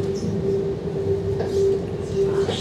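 A Paris RER B commuter train rumbles along with a steady low roar and a sustained tonal whine from its motors, close and loud throughout, with faint speech in the background.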